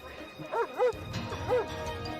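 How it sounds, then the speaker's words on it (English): A dog barks at a gunman during an armed standoff after a drunk driving accident, giving three or four sharp, strained barks with whimpering tones, at moderate distance with a voice speaking over them. "The victim's dog barks at the shooter, trying helplessly to protect his fallen master."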